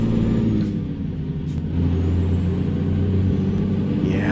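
A heavy Freightliner truck with a Cummins KT-600 engine rumbles steadily at idle in a video game, loud and close, with a brief airy hiss near the end.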